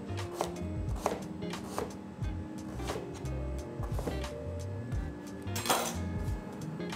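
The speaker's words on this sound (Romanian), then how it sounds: "Îl vom tăia bucăți micuțe." A parsnip is chopped into small pieces with a knife on a cutting board, giving a close, steady run of sharp knife taps and thuds at an irregular, brisk rhythm, with no talking.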